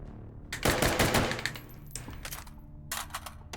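Rapid automatic gunfire from Half-Life: Alyx, a dense burst of shots up close lasting about a second, then sparser cracks and a final short burst, with no talking.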